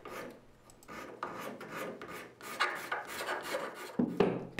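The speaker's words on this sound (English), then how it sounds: "then files and scrapers to finish the shaping and smoothing of the fence" Files and scrapers shaping and smoothing the wooden fence of a panel marking gauge, a run of close, steady rasping strokes with brief pauses between them.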